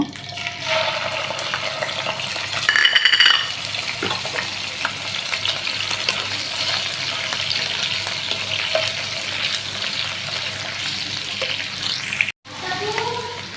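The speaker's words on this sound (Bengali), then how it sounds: "তেল তো গরম আছে তারপরে এই যে আমি এখন পেঁয়াজ বাটাটা দিয়ে দিব" Onion paste frying in hot oil for a fish kofta rezala, giving a steady close crackling sizzle with brief stirring or water-like clatter partway through.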